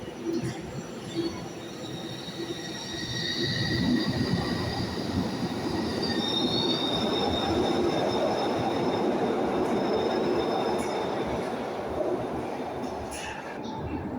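Glasgow Subway train 305 pulls away from an underground platform with a continuous rolling rumble and high, drawn-out wheel squeals that swell and then ease as it departs.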